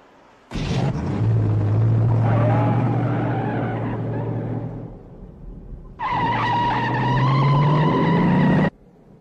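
A car roars off and skids with squealing tires in a chase scene from an Arnold Schwarzenegger action movie, loud engine revving across two long bursts with a brief dip between them.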